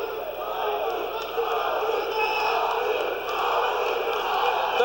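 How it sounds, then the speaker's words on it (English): Pro boxing arena crowd chanting for a fighter late in a round, a loud continuous rumble of voices rising in waves, with a ringside commentator talking over it. "The crowd chanting for Tony here with time running out."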